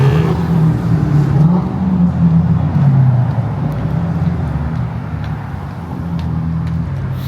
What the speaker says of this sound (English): There we go, a little sports car action.